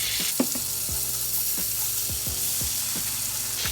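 Onion and chive spread melts with butter in a hot pan, giving a close, even sizzle while a utensil scrapes and stirs in regular strokes about every half second.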